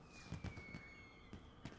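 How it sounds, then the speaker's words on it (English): Fireworks going off in the video game Final Fantasy XIV: a few faint, scattered pops and crackles, with a thin falling whistle trailing across the short stretch. "Even my dog's enjoying the fireworks."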